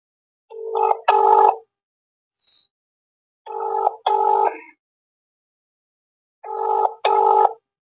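Three double-pulse rings from a mobile phone call, evenly spaced and separated by silence, with a faint short beep between the first two.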